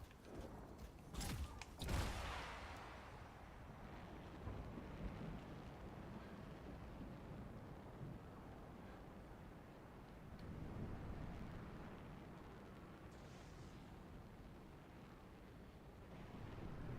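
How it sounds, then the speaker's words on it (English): Wind blows through the world of the video game Anthem, a steady low rushing roar that swells and eases, with a few creaking mechanical noises early on. "Ooh, windy."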